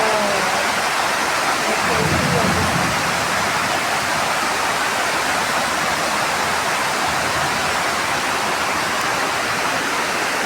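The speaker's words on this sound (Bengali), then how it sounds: "অনেক জোরে বৃষ্টি নামতেছে" Dense, steady roar of heavy rain pouring down continuously, loud and close, with no pauses throughout.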